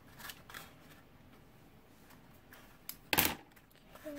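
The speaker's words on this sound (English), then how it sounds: "you can see we need to trim these tabs" Scissors snip through paper card tabs while assembling a 3D hot air balloon memory card, giving a single sharp, close cut near the end after a few faint rustles.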